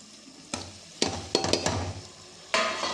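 Tomatoes frying in a pan after the sautéed onions, a close hiss with bursts of loud scraping and clattering as they are stirred, about four strokes over a few seconds.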